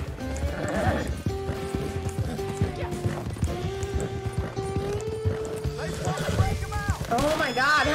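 Horse hooves clip-clop in Red Dead Online while a gypsy cob is ridden, steady rhythmic thuds set under game music and other layered sounds.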